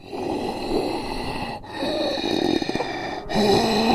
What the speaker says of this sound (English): the stillness after her children's bedtime was broken by a rough, labored breathing